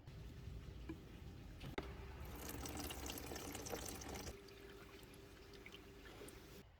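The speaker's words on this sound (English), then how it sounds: "Then we drained the tank." Old fuel drains from a Kawasaki KX 250 motorcycle tank after years of sitting, a faint, steady liquid pour and splash that trickles continuously with a brief louder gush in the middle, no speech.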